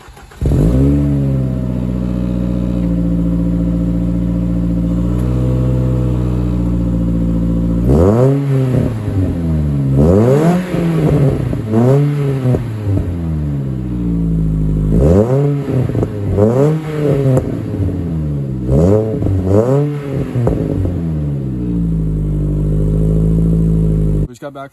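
A car engine on a stock exhaust idles steadily, then revs sharply several times in repeated rising and falling bursts. The sound is loud and close, with a voice speaking at times over it.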